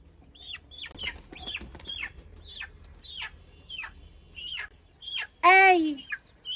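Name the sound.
Sonali chicken clucking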